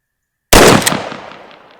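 A single loud blast from a 14.5-inch Vang Comp shotgun firing Federal Flight Control 00 buckshot, nine pellets, a sharp close report after brief silence, with a decaying echo trailing off.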